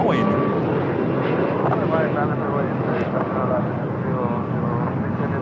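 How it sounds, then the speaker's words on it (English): A China Airlines Boeing 777 freighter on a cargo flight to Taipei powers up for takeoff, its engine roar rumbling steadily at a distance while people talk over it. "China Airlines cargo flight 5137 heading to Taipei in a 777 freighter lighting up"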